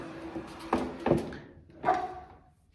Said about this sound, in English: I'm just going to move my chair back so you can see my belly.